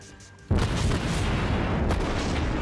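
Warship artillery fire in World of Warships erupts as a sudden heavy boom after a quiet moment, leaving a sustained loud rumbling roar with another muffled blast soon after.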